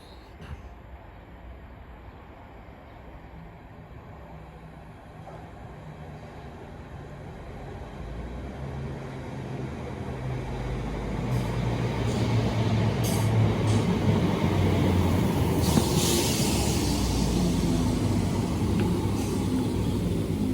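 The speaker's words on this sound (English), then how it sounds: "Train now arriving is a 319 going to Liverpool Line Street." A Class 319 electric train bound for Liverpool Lime Street pulls into Rainhill station, its rumble growing steadily louder from a distant approach to a close, sustained roar with brief high squeals near the end.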